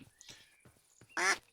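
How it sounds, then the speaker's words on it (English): Ducks from the duckling mod in a video game give a few soft quacks, then one loud, bright quack rings out near the end. "There's other ducks from the duckling mod."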